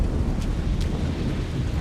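Rain and rumbling thunder in the S.T.A.L.K.E.R. Gamma video game, a dense, steady wash of rainfall under a low, continuous rumble, with no talk heard.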